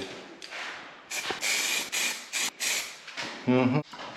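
Matte black spray paint sprayed from a can onto a car's outline, several short close hissing bursts in quick succession, followed by a brief low vocal sound near the end.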